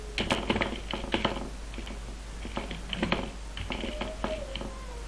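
Rapid clicking of keystrokes on a computer keyboard comes in quick irregular bursts close to the microphone, with a steady low electrical hum underneath.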